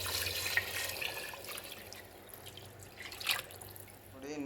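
Water is poured into a cooking pot of rice for chicken biryani, heard as a faint, uneven splashing and trickling in a quiet kitchen.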